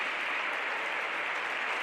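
Spectators at a women's regional handball match in a municipal sports hall applaud in a steady, even wash of clapping, moderately distant and without speech.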